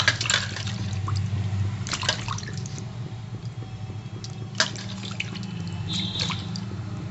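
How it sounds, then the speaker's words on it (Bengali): Silver pomfret fish are washed in water, with steady running and splashing from a tap under a low hum, plus a few sharper splashes and drips close by, no speech. "এই দেখো এখন কমপ্লিট মাছগুলো ভালো করে ধুয়ে নিচ্ছি"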